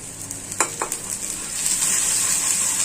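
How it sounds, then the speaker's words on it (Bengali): Onion with turmeric, chili and salt fries as a masala in oil in a pan: a few quick stirring scrapes at first, then a steady, brightening hiss of sizzling, close and without speech. "আমার মশলাটা কষানো হয়ে গেছে।"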